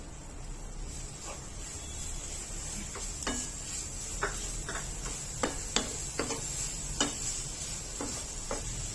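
Jaggery, dry fruits and fresh grated coconut are stirred in ghee over a low flame, a soft steady sizzle broken by a dozen quick scraping strokes of a spoon against the pan, close and fairly quiet, with no talking.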